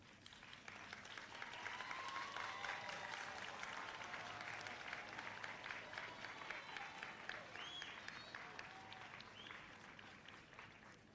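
Applause at an outdoor college commencement ceremony, a crowd clapping steadily and warmly for graduates' families, swelling early and then tapering slowly toward the end.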